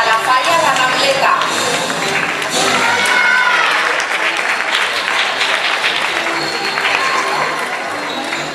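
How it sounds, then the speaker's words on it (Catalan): Loud, sustained applause from a crowd at a Valencian falla exaltation ceremony, thick and continuous with some cheering mixed in, holding strong before easing slightly near the end. "Despedir amb un fort aplaudiment a la falla La Rambleta."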